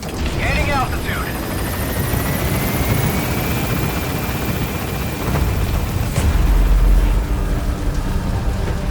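A helicopter gains altitude in Metal Gear Solid 5, its loud rotor and turbine whine rising steadily while a low rumble swells toward the end, with brief voices near the start.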